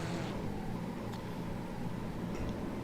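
Low, constant engine drone from race cars at Monza in Assetto Corsa Competizione, a steady rumble with no breaks at moderate volume.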